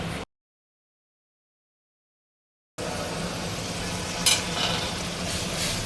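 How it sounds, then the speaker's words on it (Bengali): Spice paste of chili, coriander and cumin frying in a pan for tahari, a steady close sizzle with stirring, cut by a stretch of silence near the start before the frying resumes, with a brief louder scrape late on. "এরপরে এই মশলাটা ভালো করে কষিয়ে নিতে হবে।"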